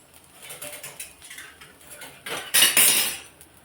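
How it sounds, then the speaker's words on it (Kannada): A spatula scrapes and clinks against a pan as a dosa is flipped, with light metallic taps early and a louder, brighter scraping burst near the end, close and alone without speech. "ಈಗ ದೋಸೆನ ತಿರುಗಿಸಿ ಹಾಕೋತೀನಿ"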